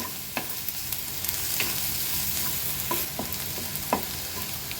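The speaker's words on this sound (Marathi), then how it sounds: "लो फ्लेमवर कांदा छान परतून घ्यायचा आहे" Onion sautéing on low flame in two spoons of oil for a dry baby shrimp chutney, a gentle continuous sizzle broken by occasional spoon taps and stirring scrapes, close and fairly quiet, with no speech.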